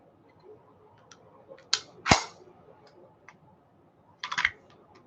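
A magazine slides into a handgun during cleaning with a cleaning kit: close, sharp metallic clicks and clacks, a few isolated snaps and then a final cluster of clicks, in a quiet room.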